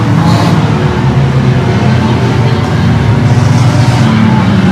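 Hornet class race cars roar around the oval at Evergreen Speedway in a sustained, loud, dense engine drone that never lets up, with a commentator's voice running over it.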